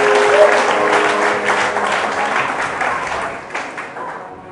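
Congregation applauding at a French-language church service, dense sustained clapping that fills the room and thins slightly toward the end, with no one speaking.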